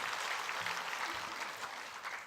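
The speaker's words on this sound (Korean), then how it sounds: "옆에 분 격려의 박수 한번," Church congregation at a Sunday service applauding, a broad steady wash of clapping hands held at an even level for the whole stretch.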